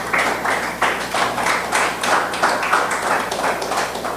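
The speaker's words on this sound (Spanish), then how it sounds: "Denle un aplauso al Señor" A church congregation claps together in a steady, rhythmic beat, a dense and fairly close wash of hand claps holding an even pulse throughout.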